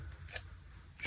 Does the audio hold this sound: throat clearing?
no